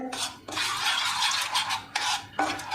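A spoon scrapes and stirs a chicken marinade with food colour and lemon juice in a bowl, a close rhythmic swishing with a few distinct strokes and light clinks.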